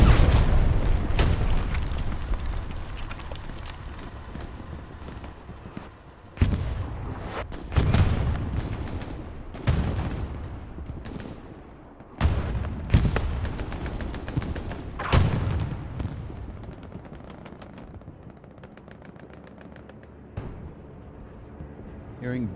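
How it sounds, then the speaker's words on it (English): A bombing run strikes during a competitive Hell Let Loose match, bringing a series of heavy, booming explosions spaced a few seconds apart, each with a rumbling tail, mixed with gunfire crackle and a commentator talking throughout. "Hearing bombing run."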